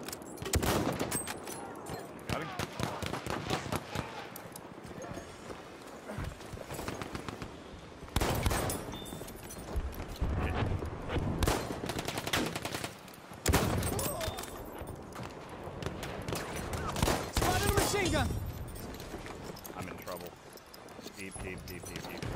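Bursts of rapid machine gun fire in a late-night sniping video game session, dense crackling volleys rising and falling across the stretch, while excited voices shout over the shooting.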